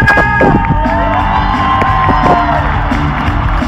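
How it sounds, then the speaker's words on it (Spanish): A big arena concert crowd in Guadalajara, Mexico cheers, whoops and applauds loudly for a band's percussionist, a dense roar with shouts over a sustained, steady din. "Percusiones, un fuerte aplauso."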